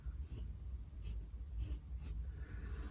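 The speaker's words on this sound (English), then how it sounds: "I'm just going to use my T-square, which is really handy to mark these dimensions out" A pencil marks out dimensions on a Sonopan soundproofing sheet with a T-square in four short scratchy strokes, quiet and close over a low room rumble.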